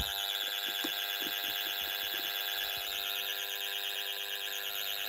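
Pyronix Paragon Super intruder alarm from the 1990s being set, giving a steady, continuous electronic tone with a warbling pitch that holds at an even level throughout.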